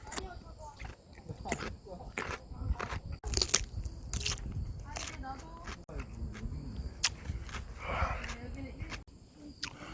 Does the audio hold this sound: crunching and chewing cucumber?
yes